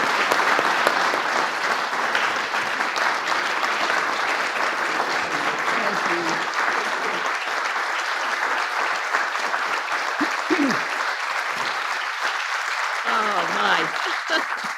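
Sustained applause from an indoor audience at an event honoring military families, welcoming a senator; steady, dense clapping fills the whole stretch, with a brief voice exclaiming over it.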